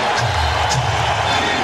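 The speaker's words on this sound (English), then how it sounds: "the crowd goes wild" Basketball arena crowd cheering during a Cavaliers game, a loud, dense roar of voices sustained throughout with a few brighter shouts rising above it.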